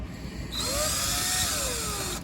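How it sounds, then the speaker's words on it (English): A power drill bores into a guitar headstock for tuner screws, a loud steady whine that rises and holds for a couple of seconds with no talking. "I'm just going to go ahead and drill to the tape"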